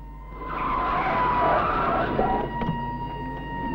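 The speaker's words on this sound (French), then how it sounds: "Freine, va." A car braking hard, its tires skidding with a loud, sustained squeal over a rumbling engine, fading out near the end with a few knocks.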